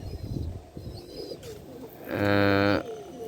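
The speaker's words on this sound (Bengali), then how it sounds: "আলহামদুলিল্লাহ অনেকগুলো কবুতর আছে" Pigeons coo close by, a soft low murmur followed by one louder, sustained throaty coo in a quiet setting.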